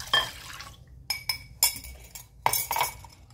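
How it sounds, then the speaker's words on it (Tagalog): Powdered milk already dissolved in water is poured into a dish for a leche flan custard, giving several splashy, clinking bursts of liquid against glassware with short pauses between pours, fairly close and with no talk over it. "Ito na yung powder milk. Nilusaw ko na sa tubig. Buhos lang natin dito."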